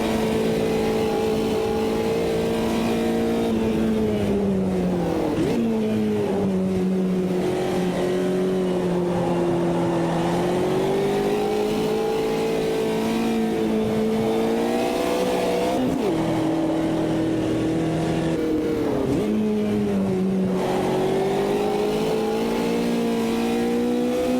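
Race car engines in Automobilista 2, Brazil tour in a Puma, drone steadily and rise and fall with shifts through the whole stretch, loud and close with other cars near, tire squeal hinted, no talk.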